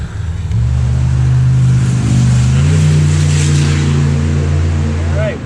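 A car engine with no exhaust fitted revs up loud and close in South Carolina, a raw droning roar that rises in pitch midway and holds, then drops off.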